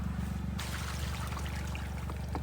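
Fresh water pouring into a trough for goats and sheep, a close, continuous trickling splash that starts abruptly and runs steadily.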